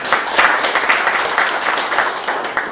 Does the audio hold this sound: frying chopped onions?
no